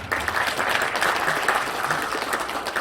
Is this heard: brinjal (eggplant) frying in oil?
no